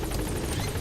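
Aircraft engine in the video game Metal Gear Solid, a loud steady rotor-like droning roar throughout, with no voices.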